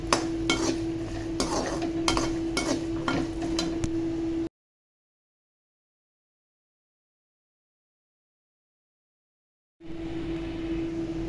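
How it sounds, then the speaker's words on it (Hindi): Dry fruits roast in ghee in a pan for sugar-free laddus, a soft sizzle with rapid clinking spatula strokes against the pan, broken by a long silent gap before the stirring resumes. "इसको भी घी में ही हमने करना है रोस्ट।"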